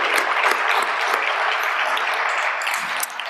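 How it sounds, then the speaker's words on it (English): A room full of guests at an awards dinner claps warmly for the behind-the-scenes staff, a bright, continuous rush of applause with a few sharper claps standing out. "Just give them a round of applause because what a wonderful night they've created for us"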